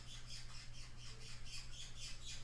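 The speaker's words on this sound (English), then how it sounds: "That's the bird." A bird squawking in rapid, repeated harsh calls, faint and steady throughout, heard alone over a low background hum.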